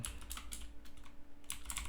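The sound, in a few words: typing on a computer keyboard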